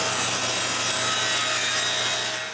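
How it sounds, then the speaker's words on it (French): A steady, continuous rasping hiss of a band saw cutting through walnut wood, loud and close, holding evenly before tapering off at the end. "Je finis les coupes là, avec la scie à ruban."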